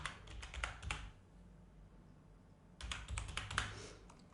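Keys on a computer keyboard are pressed in two short bursts of quiet, close clicking, separated by a pause of near silence.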